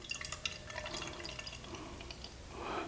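Bell's Kalamazoo Stout beer poured into a glass, a faint liquid trickle with soft fizzing and small drips, building to a brief fuller splash near the end, in a quiet room.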